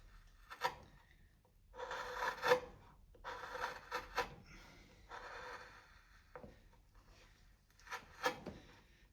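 A wood gouge cutting a pocket into timber, a series of soft rasping, scraping strokes in short bursts with pauses between, close and quiet.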